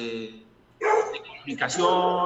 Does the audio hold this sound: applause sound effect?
no